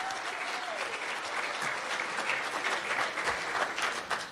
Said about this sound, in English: So a round of applause on that.